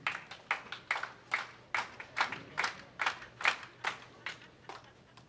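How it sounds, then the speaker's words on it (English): Synchronized clapping from a crowd at a junior bowling championship match-play bracket, roughly a dozen crisp rhythmic claps in steady unison, moderately distant with faint background murmur. "On 31, synchronized clapping."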